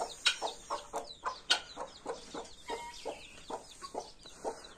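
An Aseel hen clucks in a rapid, uneven series of close, moderately loud calls, with high thin peeping from small chicks mixed in and no talking.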